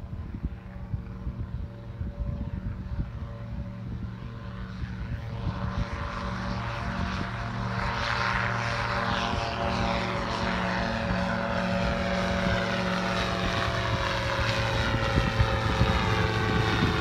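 AR-1 gyroplane from SilverLight Aviation with convertible enclosure taking off with two aboard, engine and propeller droning steadily and swelling louder as power comes up, close and continuous without voices.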